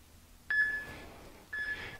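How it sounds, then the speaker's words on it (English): An electronic workout timer gives two steady beeps a second apart, each a clear tone held for about half a second at moderate volume in a quiet room. "I'm going to set the timer"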